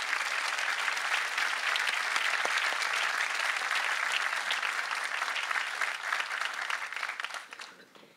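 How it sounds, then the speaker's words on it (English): An audience at a 2014 university commencement ceremony applauds to welcome the speaker, with dense, steady clapping filling the space for several seconds before it fades at the end. "Please join me in welcoming Rebecca Rubin."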